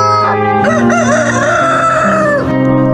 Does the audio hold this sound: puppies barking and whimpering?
no